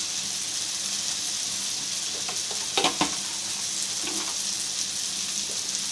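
Eggplant and egg curry with turmeric, chili and salt frying in oil, a steady close sizzle broken by a few sharp clinks and scrapes as it is stirred in the pan.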